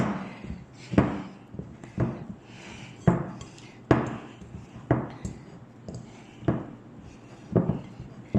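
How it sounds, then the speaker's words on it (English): Potsticker dough mixed and kneaded in a bowl, a series of dull thumps and knocks roughly once a second with soft scraping in between, close and moderately quiet, no talking. "And then we are just going to mix it, knead it a bit."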